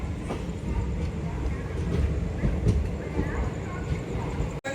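Passenger train pulling into Nagercoil Junction after the run from Kacheguda, a steady low rumble and rattle of carriages filling the whole stretch with faint knocks on top.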